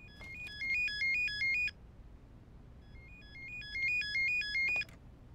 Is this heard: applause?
no